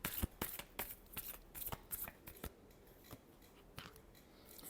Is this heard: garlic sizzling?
no